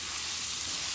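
Food caramelizing in a pan while making creamy scalloped potatoes gives off a steady, close hiss of sizzling with no pauses or talk.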